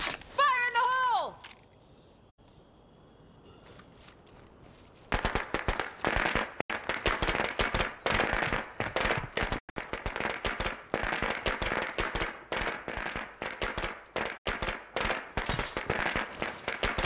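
Explosions and gunfire in the zombie survival game State of Decay 2: a brief voice first, a short lull, then a long run of dense, loud, rapid blasts and cracks.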